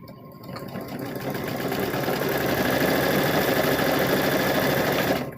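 A sewing machine stitches quilt pieces for a chicken-themed quilt, running in a steady, fast mechanical whirr that stays loud and even throughout, with no talking.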